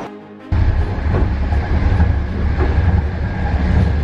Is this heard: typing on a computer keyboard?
no